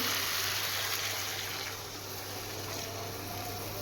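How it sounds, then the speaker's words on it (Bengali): Milk is poured into a pot of simmering Bengali shukto, a soft steady gushing pour that eases off slightly partway through, quiet and close, with no talk. "এবারে আমি দুধ দিয়ে দিচ্ছি"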